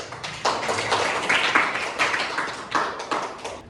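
A classroom of students clapping for a classmate named Hafib during a coding and AI lesson, a steady run of many hand claps at moderate volume lasting a few seconds.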